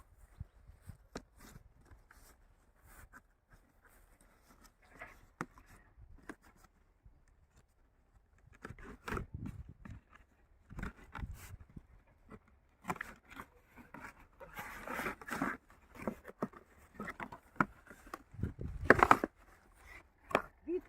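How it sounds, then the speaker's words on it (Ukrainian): Stiff, firm cardboard packaging of plant seedlings being opened by hand, giving scattered crinkles, scrapes and soft tearing rustles that grow busier and louder toward the end. "Відкриваємо упаковочку."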